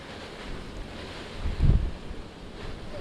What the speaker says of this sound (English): The wind gusts are whipping through this alley.